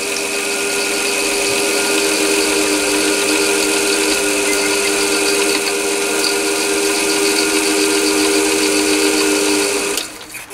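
A mini lathe runs in low gear at slow revs while cross drilling, giving a steady motor whine with a faint rhythmic rub that continues evenly before cutting off abruptly near the end.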